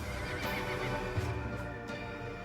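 A primitive, dog-sized ancestor of the horse whinnies in a nature documentary effect. A single shrill neigh sounds alone, with faint hoof clip-clop beneath.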